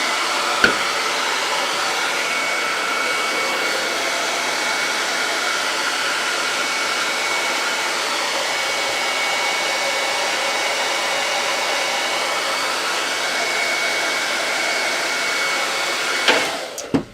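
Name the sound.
hair dryer blowing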